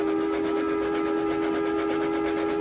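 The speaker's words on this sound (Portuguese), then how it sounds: "E o apito de um terceiro trem iluminado soou" A steam train whistle blows one loud, steady chord, sustained without a break and with no voices.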